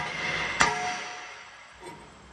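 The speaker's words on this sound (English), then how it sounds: "So if the rotor's being stubborn, you just give it a couple whacks" Single sharp metallic whack on a stubborn rusted brake rotor on a 2015 Honda Accord front hub, close and loud with a brief ringing decay, then a fainter knock after.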